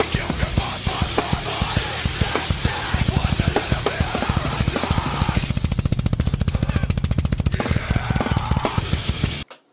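Extremely fast drum playing, a one-handed cover of a song, with rapid dense hits, loud and steady, that cut off abruptly near the end.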